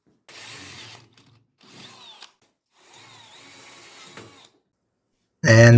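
Power tool chamfering rosette weld holes in a metal down tube for a chopper frame, three short whining bursts separated by pauses, fairly close, then a sharp loud noise at the very end.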